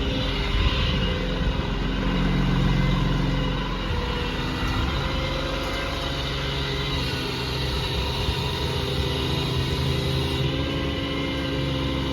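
2022 Dodge Ram SLT 5500 diesel rollback tow truck with its bed running back, giving a steady idling engine drone with a smooth mechanical hum, close and continuous with no voices.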